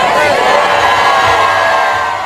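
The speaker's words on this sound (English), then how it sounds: "The Florissant community shouted 29-year-old Precious Black's name at her balloon release on Friday evening" A community crowd at an evening balloon release in Florissant shouts a name together, a loud, dense swell of massed voices and cheering that holds steady throughout.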